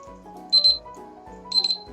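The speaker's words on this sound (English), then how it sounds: "exactly as we started recording, the timer went off" A timer alarm beeps in two short bursts of rapid, shrill electronic beeps about a second apart, sounding over low steady background noise.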